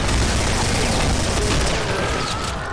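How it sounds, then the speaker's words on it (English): In the video game Doom 2, a minigun fires as a dense, continuous roar of rapid shots. The sound is loud and saturated throughout and eases a little near the end. "we're probably gonna have to take out the minigun for this."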